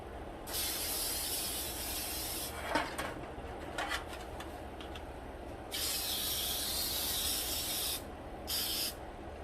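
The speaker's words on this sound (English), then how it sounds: "I'm going to spray the baking pans" Several bursts of aerosol cooking spray hiss against muffin baking pans, steady and close, with a short pause and brief clatter between them.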